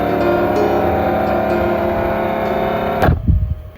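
A Flextail Evo portable electric pump inflating a flat bike tyre to 40 psi, a loud, steady motor whine and drone that cuts off abruptly near the end, followed by a brief rumble.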